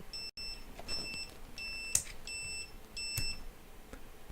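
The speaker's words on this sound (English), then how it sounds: "It's my multimeter kindly reminding me that it wants to turn off." A multimeter sounds its auto power-off reminder, a series of about five short, bright electronic double beeps in a regular pattern, close and clear against quiet room noise.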